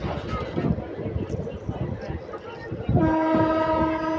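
A Bidar intercity express running past Necklace Road station, with a steady rumble and clatter under the speech, then a loud sustained horn blast that holds from the middle of the passage to the end.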